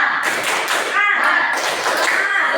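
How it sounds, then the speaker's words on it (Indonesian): A school class does a rhythmic spirit clap (tepuk semangat): several sharp bursts of group clapping in a patterned beat, close and loud, with children's voices chanting along between the claps. "Oke, pada hari ini kita akan tutup kembali dengan tepuk semangat ya."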